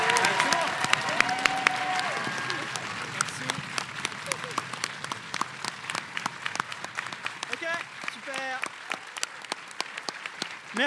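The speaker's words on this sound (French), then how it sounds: "est-ce qu'en vrai, vous pouvez aussi applaudir Fibre" Audience applause at the grand final of a live tabletop role-playing show, dense clapping throughout with scattered sharp claps and a few voices and cheers breaking through.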